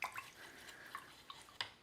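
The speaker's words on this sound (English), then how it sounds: "And then rinsing it out with clean water." Soft splashes and drips of water with a few sharper plinks, quiet and close, as a paintbrush used for water-soluble oil paint is rinsed in clean water.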